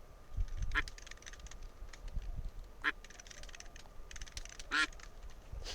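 A few scattered nasal quacks from a duck, spaced seconds apart, over low rumbling background noise, in the Roblox game Dress To Impress.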